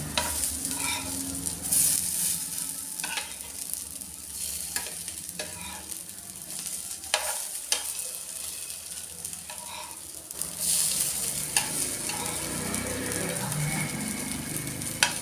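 Green pea tikkis fry in a pan, a steady close sizzle running throughout with scraping stirs and clinks as they are turned, no talking.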